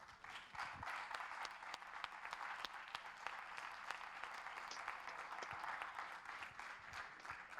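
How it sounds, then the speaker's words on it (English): Audience applause at a student game-project presentation session, steady dense clapping from a crowd filling the room throughout, moderately distant and even in level with no talk over it. "please give a last round of applause to all the teams"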